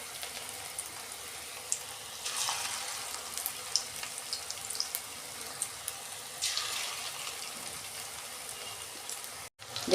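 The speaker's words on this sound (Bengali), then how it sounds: "আমি পকোড়াগুলো ভাজছি।" Chicken pakoras frying in hot oil on a gas stove, a steady soft sizzle with gentle crackles and a couple of brief louder bursts, close by with no talking.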